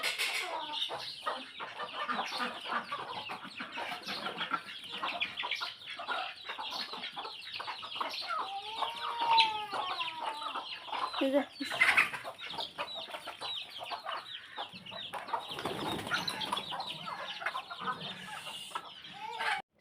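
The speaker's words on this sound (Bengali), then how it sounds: "আমার মায়ের অনেকগুলাই দেশি মুরগি আছে" Desi hens cluck and chatter close by in a village yard, many overlapping calls in a busy, continuous flock chorus, with a brief spoken word.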